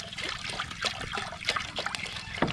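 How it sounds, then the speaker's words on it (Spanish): Water is poured into a pot of coffee over a campfire in the woods, a steady close trickle and splash lasting a couple of seconds with no talk. "Hay que echarle más agua, pero todavía queda un café."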